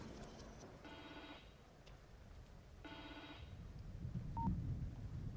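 A walkie-talkie rings in the video game The Evil Within 2, two separate trilling bursts, fairly faint against a low background rumble.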